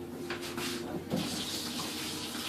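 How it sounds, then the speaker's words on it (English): Hot water runs from a tap into a bathtub, a steady close rushing hiss that swells slightly partway through and continues without interruption. "you open the water again"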